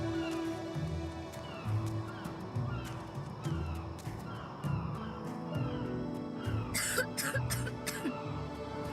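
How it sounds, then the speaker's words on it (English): Repeated harsh coughs and throat clearing come in bursts close by over a busy background, with a cluster of sharper sounds near the end. "Coughing."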